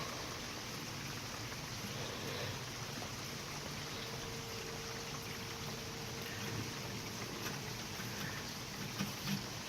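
Rain falling steadily on a lawn while a robotic mower runs, an even soft hiss of drops with faint scattered ticks and no voices.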